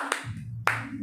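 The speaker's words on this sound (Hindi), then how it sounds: "एक बार जोरदार तालियां हमारे अगले कवि के लिए।" Two sharp, separate hand claps sound at a Hindi poetry recital over a low steady hum, close and brief.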